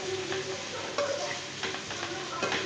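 Onion, garlic, ginger and chilli for Punjabi kadhi being roasted in a pan, a soft continuous sizzle with intermittent scraping stirs of a spoon, close and without talk.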